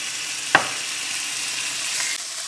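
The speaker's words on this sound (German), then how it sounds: "wie lange dünsten wir das Fleisch jetzt an?" Beef searing in a pan for a tajine: a continuous bright sizzle with a sharp clink from a utensil near the start, steady and close with no talking.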